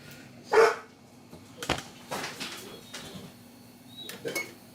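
Dogs let out a few short, scattered barks in the background, while dishes and pans clink in a home kitchen.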